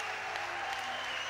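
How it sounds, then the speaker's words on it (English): Steady applause from a fight-night audience at a K1 kickboxing event, honouring fighter Duncan Airlie James after his bout; dense clapping fills the whole moment without pause. "a great round of applause for Duncan Airlie James for such a brave show"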